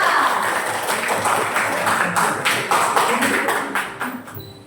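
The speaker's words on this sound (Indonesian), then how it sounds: "Tepuk tangan untuk kita semua." Schoolchildren clapping together in an Arabic-language classroom lesson, a burst of fast, uneven hand claps that runs on for several seconds and then tapers off.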